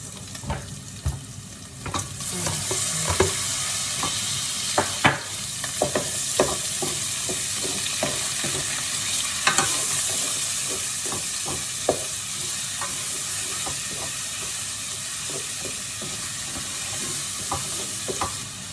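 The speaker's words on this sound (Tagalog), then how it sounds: "Luto na yung karne. Lagyan na natin yung ating kamatis." Tomatoes go into cooked meat in a pan for pinakbet and fry with a loud, steady sizzle, while a utensil scrapes and knocks in irregular stirring strokes close by, no one speaking.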